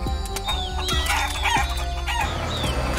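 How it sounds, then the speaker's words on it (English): Chickens clucking and calling close by, several overlapping birds with short squawks over a steady rustling background. "There's Ben feeding the chickens!"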